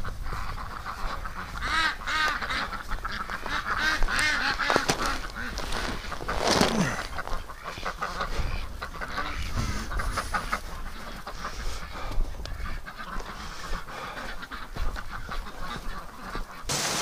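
Ducks and geese honk and quack continuously nearby, a busy chorus of overlapping calls with rustling outdoors.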